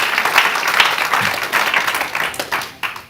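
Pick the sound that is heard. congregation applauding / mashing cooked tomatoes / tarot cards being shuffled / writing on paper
congregation applauding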